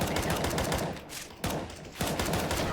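Rapid automatic gunfire in the video game CS:GO, a dense rattling stream of shots in quick succession with two brief pauses, loud and close, with no talk over it.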